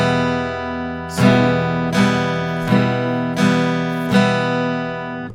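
An acoustic guitar strummed in a down-up pattern gives five loud, ringing strums at a steady, even pace. Each chord sustains until the next, played close up and alone.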